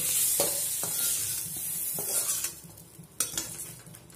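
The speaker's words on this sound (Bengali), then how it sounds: "বেগুনটাকে আমি একদম লাল লাল করে ভেজে নিয়েছি। এখন তুলে নিচ্ছি বেগুনগুলোকে।" Fried eggplant pieces being lifted from a frying pan over medium flame, with a steady hiss of hot oil and scattered scrapes and clinks of a utensil against the pan, close and moderately loud.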